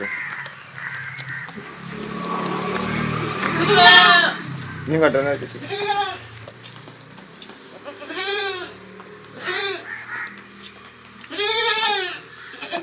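Goats at a livestock sale in Valanchery, Kerala, give several loud, wavering bleats in separate bursts over a steady background murmur, with people talking nearby.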